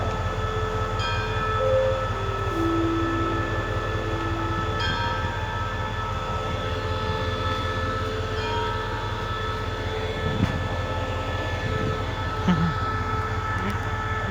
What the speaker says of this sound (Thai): โอเค รถออกแล้ว